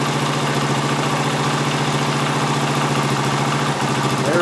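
A restored Honda TL 125 trials motorcycle with points ignition and magneto idles steadily, a loud close continuous engine putter with an even rapid pulse throughout.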